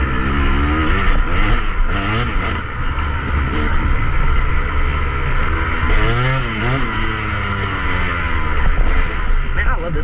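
KTM 250 EXC dirt bike engine revving on a cold October ride in northern Alabama, loud and continuous with rising and falling pitch sweeps as the throttle changes, close to the microphone.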